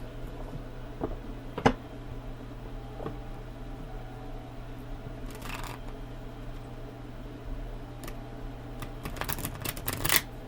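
Stiff, little-used tarot cards being shuffled, quiet soft riffles and shuffling bursts around the middle and a busier flurry near the end, with no talking.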